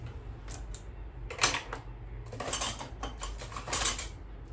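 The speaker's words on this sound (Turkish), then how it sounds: "Patatesleri küp küp doğrayacağım." A knife dices potatoes into cubes on a cutting board for potato salad, close up, with quick irregular taps in short bursts and no talking.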